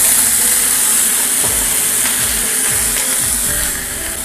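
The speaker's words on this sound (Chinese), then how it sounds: "猪肉煎一下吧，它能有效的增加猪肉的香味儿" Pork pieces sear in a wok greased with oil, giving a continuous bright sizzling hiss with a few soft low thumps as the meat is moved, and no talking.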